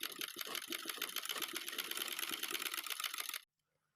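Sewing machine stitching magenta lace onto a dress, a fast even run of rattling clicks heard close and alone for about three and a half seconds before stopping abruptly into silence.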